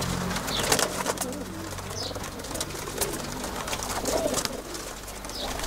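Young racing pigeons coo inside a loft, repeated soft throaty coos close by with light rustling and a busy indoor background.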